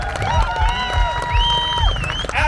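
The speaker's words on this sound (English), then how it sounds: "Let's have a round of applause." Crowd cheering and clapping at a live bike-skills arena show, with whoops and shouts layered over steady background music, fairly loud and continuous for a few seconds.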